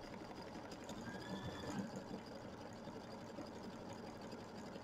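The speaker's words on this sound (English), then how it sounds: "So this one's doing the satin stitch." A sewing machine running a satin stitch on the feet of a gnome quilt block, a continuous close mechanical whir that hums steadily throughout without pause or talk.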